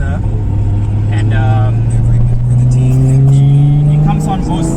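Nissan 280ZX fitted with a Tong Turbo GTW 6566 turbo accelerating, the engine drone climbing steadily in pitch as revs build, loud and close from inside the car, with a driver talking over it.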